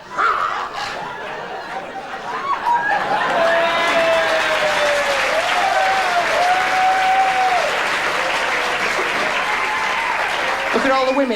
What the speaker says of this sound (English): Look at all the women clapping.